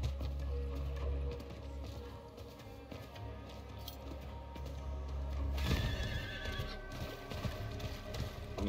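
A horse whinnies in the Diablo IV video game amid steady clip-clop hoofbeats, with the galloping rhythm growing busier and louder toward the end.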